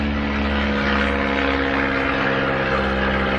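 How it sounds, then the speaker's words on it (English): Airplanes pass overhead outdoors during repair work on a BMW E36 door panel, making a loud, continuous droning hum with a steady engine tone that holds evenly throughout, with no voices. "Airplanes flying around."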